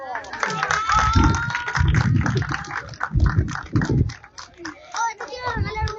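An audience claps for the champion at a motocross awards ceremony in Chilca, Peru. The applause is close and continuous, broken up by people talking and a voice.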